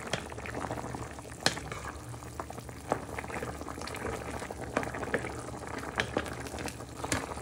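A chilli pork casserole with basmati rice simmers under a lid, giving a steady close bubbling with soft pops and occasional sharper blips throughout.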